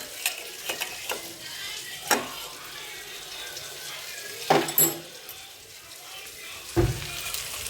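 A tomato mixture is sautéed and stirred in a pan, giving a soft low sizzle punctuated by intermittent scraping clanks of the spoon against the pan.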